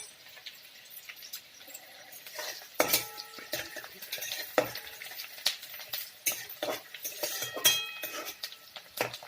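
Onions frying and being stirred in a pan for pasta, with a steady sizzle broken by frequent scraping and clinking of a utensil against the pan, close and fairly loud, with no talking.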